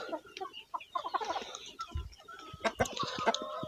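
Hens let out of their coop in the early morning, clucking and squawking close by in overlapping bursts, with light scuffling and a few soft thumps underneath.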